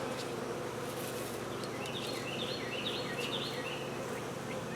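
Honeybees hum steadily around an open hive being worked, a soft, close, continuous drone with faint higher chirps from nearby birds.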